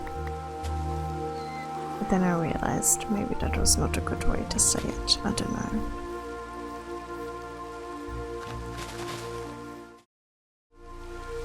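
Steady rain patters in the background while a person talks over it, ending with a brief drop to near silence.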